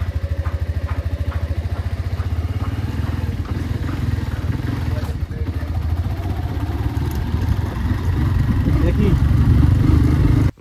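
A motorcycle engine idles steadily and close by before a ride toward an offbeat hill village in Jhandi near Kalimpong, with a rhythmic low thrum that grows slightly louder near the end.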